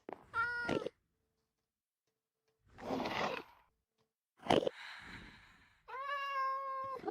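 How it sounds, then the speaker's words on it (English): Several Minecraft cats stuck in boats meow in the game, short synthetic meows spaced by pauses, quiet but distinct with no talking over them. "a few silly cats got themselves stuck in the boats here"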